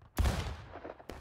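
An infantry battalion fires a musket volley in the War of Rights video game: a heavy, booming crack of many shots at once rolls and decays, followed by a single fainter shot near the end.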